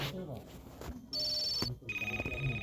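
A phone call's ringing tone sounds in short electronic beeps and tones, close and clear, with talking mixed in around it.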